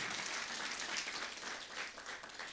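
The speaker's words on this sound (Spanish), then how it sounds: "Una vez más vamos a dar fuertes aplausos," A church congregation at a Sunday service applauds a married couple, giving steady dense applause throughout that sounds fairly distant and soft, with no voices above it.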